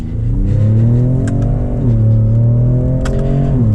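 2020 Ford Raptor pickup truck driving fast off-road, a loud, steady engine drone with rising and shifting pitch as it accelerates, plus brief rattles and wind noise.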